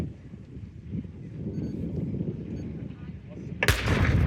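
At an outdoor military vehicle firepower show, a distant rumble of battle noise with wind buffeting the microphone builds until a sharp, loud artillery blast hits near the end.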